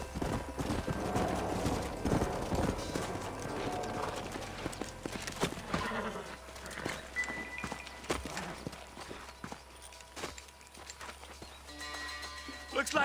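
Horses clip-clop at a steady trot in the Western video game Red Dead Redemption, the hoofbeats fairly close and moderately loud over a busy bed of game ambience, with a voice talking at points.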